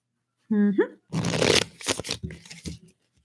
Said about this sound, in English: Let's pull 3 cards.